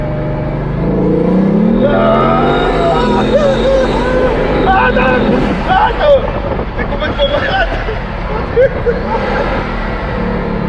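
A Bugatti accelerates hard in first gear in sport mode, its engine note climbing in pitch, then roaring under wind noise while people inside talk excitedly.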